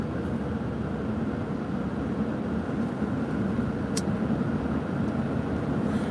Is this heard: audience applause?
no